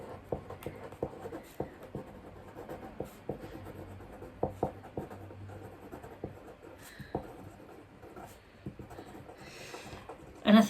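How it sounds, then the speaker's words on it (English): A pen scratches across paper while writing a to-do list, soft rubbing strokes broken by small taps, close and fairly quiet, ending in a louder knock. "So I'm going to write that on my to-do list first."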